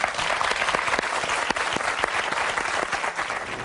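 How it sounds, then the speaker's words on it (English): Audience applause fills the room in a full, continuous wash of many hands clapping at close range, with no talking on top. "please, a big applause for Denise and Bunty"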